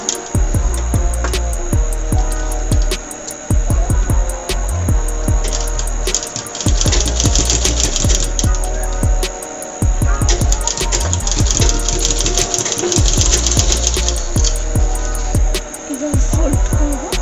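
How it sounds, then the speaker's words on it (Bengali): Sewing machine stitching the neck band of a baby top, a loud, close, steady mechanical whir that runs in long bursts and stops briefly a few times. "গলার পট্টিটা যাতে ঠিকভাবে বসে তার জন্য আমি আর একবার সেলাই করে নিচ্ছি"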